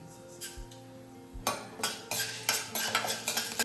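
Black pepper and fenugreek seeds dry-roast in a pan over a low gas flame, a spoon stirring and scraping in a quiet start and then a rhythmic series of clinks and rattles.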